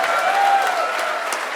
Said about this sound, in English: Let's start with a big round of applause for GDG Chennai.